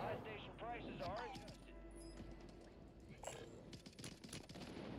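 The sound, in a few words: gunshots in the video game Call of Duty Warzone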